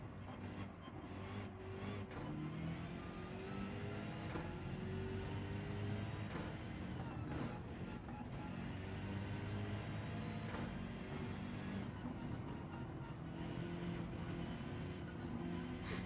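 A race car engine in Gran Turismo 7 on the Nürburgring Nordschleife drones loudly and continuously, its pitch climbing and then dropping at each of several quick gear changes.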